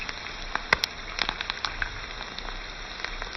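Rolls fry in hot refined oil, giving a soft, steady crackle with scattered sharp pops and spits, close by and fairly quiet.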